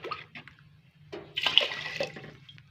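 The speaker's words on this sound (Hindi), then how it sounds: "इसके बाद इसके अंदर पानी ऐड करेंगे, 8 प्याली पानी शामिल करेंगे" Water splashes and pours into a pot of lentil soup as about eight cups are added, a close, uneven gush with short bursts and trickles.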